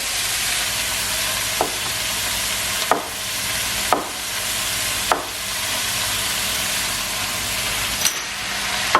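Large chunks of sliced mushrooms hit a hot pan with chicken and set off a steady, close sizzle, broken by a few sharp clacks of stirring spaced a second or two apart.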